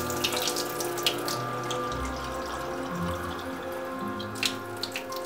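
Water runs from a kitchen tap and drains while soaked almonds are rinsed in a bowl, with a steady trickle, clinks and sloshing bursts up close.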